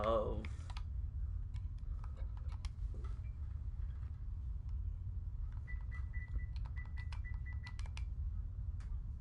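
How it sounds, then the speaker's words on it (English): Clicks from a computer keyboard, scattered in short bursts and small clusters, faint under a steady background hum, during a session of the space game Elite Dangerous. "I'm just typing in things to see if they exist in this game."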